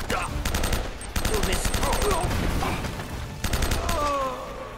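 Rapid bursts of gunfire crackle in Uncharted: Drake's Fortune Remastered on PS4, three clusters of sharp shots over game sound with a quick headshot among them.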